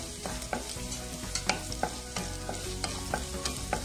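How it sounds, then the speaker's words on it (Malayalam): Onion sautéing in a pan with green chilli and ginger for an egg thoran, a continuous sizzle punctuated by regular spatula clicks and scrapes at a steady stirring rhythm, close and fairly loud. "നന്നായിട്ട് വഴറ്റുക."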